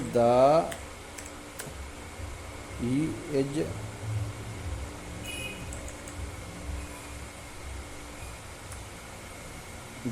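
Keys tapped on a computer keyboard while text is entered into an MS Excel spreadsheet: sparse, quiet clicks scattered across a faint background hum, with a voice talking briefly near the start and again around the third second.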